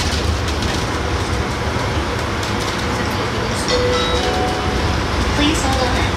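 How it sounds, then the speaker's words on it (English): A train in Atlanta slows and pulls into a station, giving a steady close rumble and rolling clatter throughout, with faint muffled voices in the background. "Please hold on. This train is stopping."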